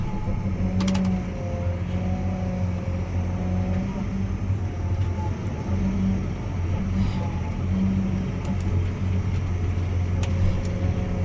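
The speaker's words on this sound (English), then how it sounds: "Alright, I'm up in the tractor now." A tractor engine runs steadily while stacking hay bales with a Mil-Stak, a loud, continuous low rumble with a persistent hum throughout and a few faint clicks and clanks over it.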